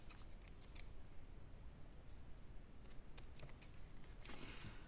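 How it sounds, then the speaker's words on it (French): Scissors snipping through paper for a handmade mini album, quiet close-up cuts in short irregular bursts with a soft rustle of paper between them. "Je vais venir avec le ciseau enlever tout ce qui dépasse là"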